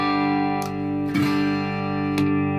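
A Hartwood Fifty6 electric guitar played through a Headrush with Tone X, sustained ringing chords with a few strummed attacks, the notes holding steadily and decaying slowly.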